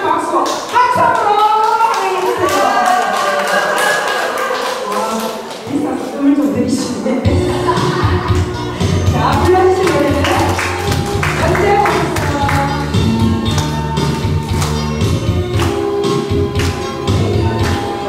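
Audience applause greeting a singer's introduction at a live music event in a Korean venue, dense clapping mixed with a loud band and thumping rhythm throughout.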